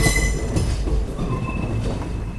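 Cherlapalli to Tirupati special train 07653 running, heard on board as a steady loud rumble with rail clatter and faint wheel squeals, with no break.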